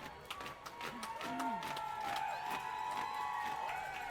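A roller derby crowd at a Rocket City versus Nashville bout cheers, shouts and claps in a dense, sustained roar. Several whistles and bright tonal calls ride over the noise.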